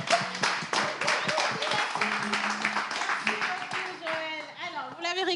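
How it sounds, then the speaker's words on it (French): A studio audience at a French talk show claps in a quick burst of scattered claps that thins out midway, as voices and cheering take over toward the end. "on applaudit, s'il vous plaît."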